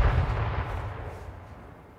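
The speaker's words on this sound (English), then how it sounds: "I don't know why we're the one getting shot." Sniper gunfire in an online shooter game, a single loud heavy report with a long booming rumble and echo that decays steadily over two seconds, with no talk over it.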